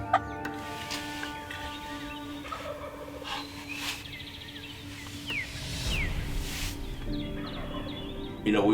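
Wild turkey gobbles ring out during a spring hunt, several rolling calls at moderate distance over a steady outdoor background with other birds faintly present.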